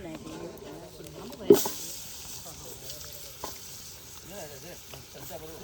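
Food sizzles and fries while being stirred on a gas stove, a steady crackling hiss broken by one sharp clank of a utensil. People talk over the cooking throughout.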